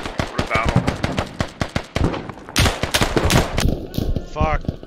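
A PK machine gun fires long rapid bursts in the video game Squad during a battle between Russian and British forces, loud close crackling volleys mixed with other gunfire and players talking over it.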